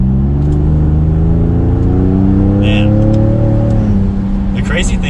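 Ford Raptor pickup on its stock exhaust, accelerating hard with a loud, steady engine drone whose pitch climbs gradually, cabin-close, with faint brief clicks near the end.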